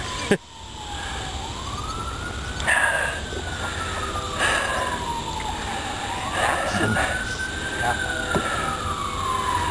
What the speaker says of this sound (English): And the crickets are chirping and the sirens are blaring.